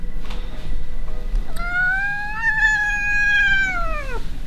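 A cat gives one long, drawn-out angry meow that rises and then falls away, heard alone and close against a quiet room.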